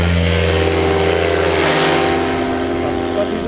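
Motorcycle engine revving steadily during a riding training session, a continuous loud drone with a low rumbling tone that shifts slightly as the throttle is worked, close to the listener.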